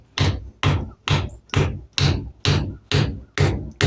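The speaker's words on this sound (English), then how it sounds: "And I'm just going to tap this on very carefully, very slow." Hammer tapping a wooden knife handle onto a hidden-tang blade during a glue-up, eight evenly spaced, firm knocks about half a second apart, close and clear with nothing else heard.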